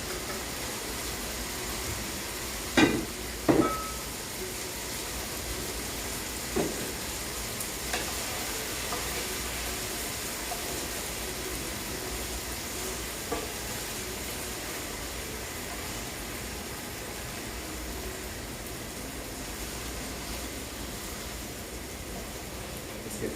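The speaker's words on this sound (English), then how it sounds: "Return the broccoli to pan and toss and heat through." Broccoli is tossed in a hot stir-fry pan with chicken, giving a low, steady sizzle and a few sharp clanks of utensil on pan near the start, then quieter frying throughout.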